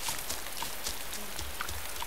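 Rain falling in the video game DayZ, a soft, even hiss of drops with faint scattered taps throughout.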